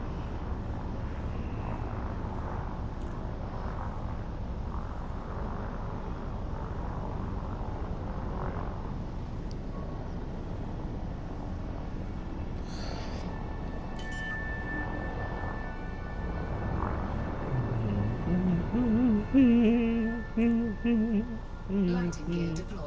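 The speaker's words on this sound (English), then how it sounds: "Automated docking initiated." A spaceship in Elite Dangerous hums through automated docking, a steady low engine drone running throughout with faint tones and a few soft electronic chirps rising near the end.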